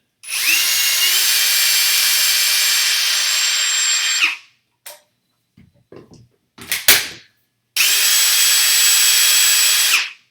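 A Ryobi brushless impact driver running on a new HP battery whines loudly at high speed for about four seconds, stops, a few clunks and handling knocks follow, then another burst of whirring.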